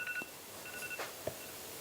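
An iPad alarm goes off in a conference talk room, giving short repeated electronic tones in two brief bursts against quiet room noise.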